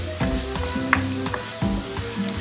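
Onions frying in a pan for tender coconut chicken, a close, continuous sizzle broken by a few scraping stirs and clanks of a utensil against the pan, no speech.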